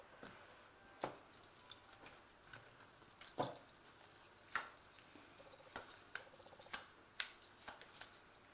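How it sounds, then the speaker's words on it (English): A tarot card deck being shuffled, quiet intermittent card taps and riffling clicks at irregular intervals, close and faint, without speech. "I'm just going to give it one more shuffle."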